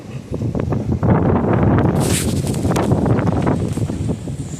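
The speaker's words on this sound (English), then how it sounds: "as you can tell, it is" Strong gusty wind roaring outdoors over a garden, loud and continuous with buffeting rumble against the microphone and a brief rustling hiss partway through, no talking.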